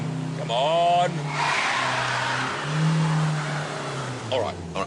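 A car with traction control switched off revs hard as its wheels spin on ice, a loud rising and falling engine whine with tire hiss, close by, and someone speaks over it.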